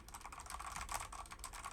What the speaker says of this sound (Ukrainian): Якщо стукати поряд або друкувати на клавіатурі поряд також це 10-15 см десь відстані.